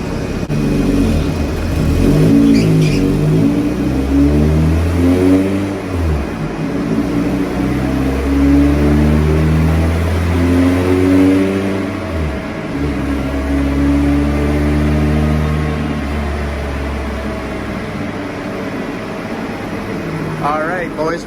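A car engine revs steadily and loudly throughout a dyno horsepower run, its pitch rising and falling in repeated sweeps with a brief dip midway, while voices talk over it.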